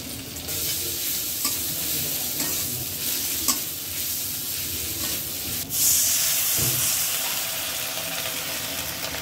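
Ginger and garlic sizzle in a hot pan with green chillies, a constant frying hiss broken by several sharp scrapes and stirring knocks, loud and close, with no talking.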